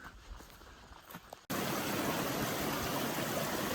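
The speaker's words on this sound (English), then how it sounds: "Same creek that we passed on the 3-point loop 2 weeks ago." A mountain creek in Kananaskis rushes with a steady, loud broadband wash after a brief quieter moment, continuous and close.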